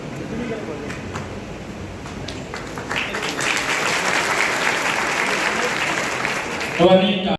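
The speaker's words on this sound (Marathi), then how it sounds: "यांच्याकडे एकदा जोरदार कडकडे टाळ्या होऊन जाऊ" Loud, sustained applause from a crowd at a political rally in Buldhana, building after about three seconds and continuing steadily, with a brief burst of noise near the end.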